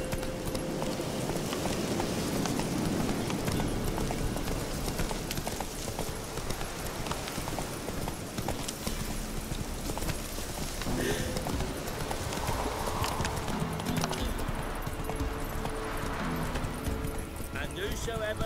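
Horse hooves gallop in a rapid, steady clip-clop across the open world of The Witcher 3, with voices and game sounds running underneath.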